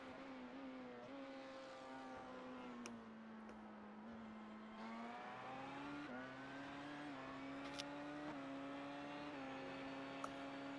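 Race cars in a virtual endurance race at Le Mans, LMP2 prototypes passing along the Mulsanne straight, engines droning steadily with rising and falling pitch as they shift gears, fairly quiet and continuous with no talk.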